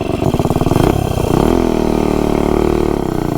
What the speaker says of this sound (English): at least with this gear, I can reach maximum RPM, right to the point where it's going to float the valves